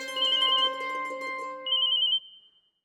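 An incoming call sets off a phone ringtone, a bright electronic melody that plays loud and clear for about two seconds and then cuts off, with no voices.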